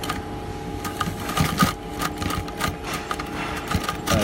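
A sewing machine runs steadily, sewing a seam in Dickson awning fabric for a made-to-measure terrace blind, its motor whirring with dense rapid needle strokes and a few bursts of rattle, close and loud, with no talking.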